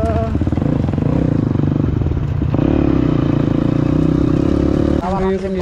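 A motorcycle engine runs steadily at idle after an off-road ride through a river, its low humming drone shifting pitch slightly partway through, close and loud throughout.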